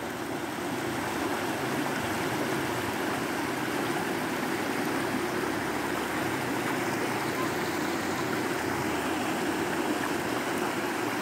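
Spillway water from the Araras reservoir at Cariré rushes past in a loud, steady broadband roar that stays unbroken throughout.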